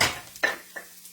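Spinach cooking in a pan while being stirred, heard as two brief, quiet scrapes of a utensil against the pan in otherwise near silence.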